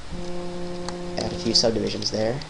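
A mobile phone buzzes with a steady droning tone for about a second, then someone talks over the faint background.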